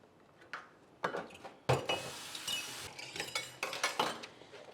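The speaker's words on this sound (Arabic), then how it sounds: "اغسل كده الكوبايات الاول" Drinking glasses are washed in a kitchen sink, giving sharp clinks and knocks of glass against glass and the sink, scattered at close range with running-water hiss between the hits.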